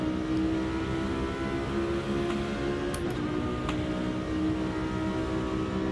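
A Lamborghini Huracan Super Trofeo Evo2 racing car accelerates in a racing video game, its engine a steady, dense drone that holds level without pauses.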